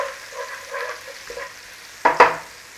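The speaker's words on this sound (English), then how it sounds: "I'm just going to put some fresh butter in to fry off the garlic" Garlic frying in fresh butter in a pan over a moderate flame gives a soft, steady sizzle, then two louder bursts of sizzling and stirring near the end.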